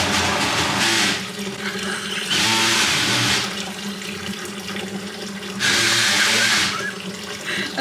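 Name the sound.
water running to fill and clean a bucket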